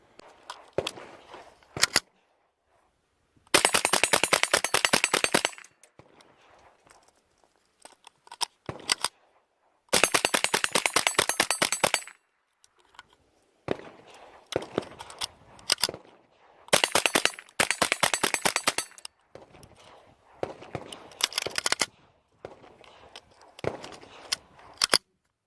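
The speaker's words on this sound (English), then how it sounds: "I'm going to zoom out here and we'll do some shooting and show you some things." AR-15 rifle fired outdoors in loud bursts of rapid shots, with long strings of fast fire alternating with single sharp reports and short pauses, no talking.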